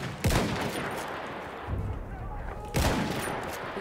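Two sharp, loud sniper rifle shots from Battlefield 1 crack about two and a half seconds apart, each with a rolling echo, amid battlefield din.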